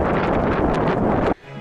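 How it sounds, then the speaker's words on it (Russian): Strong gusts of mountain wind buffet the microphone in a loud, rough roar that cuts off abruptly near the end, leaving quieter background. "Ветер заглушил разговор,"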